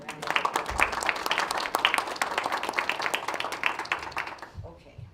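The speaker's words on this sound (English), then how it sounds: "So I think we should all give them a round of applause." Applause at a school committee meeting honoring students, a crowd of hands clapping steadily in a meeting room, fading out near the end as a voice begins to speak.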